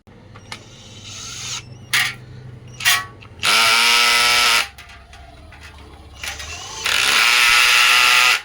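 Cordless battery drill driving a screw into wood, with short trigger blips followed by two sustained loud whirring runs that bog down as the screw seats, close to the mic.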